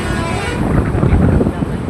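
Traffic jammed on a highway road in front of a hotel near the Mohol ST stand, with buses and trucks idling and rumbling nearby while a horn toots faintly and people talk over it.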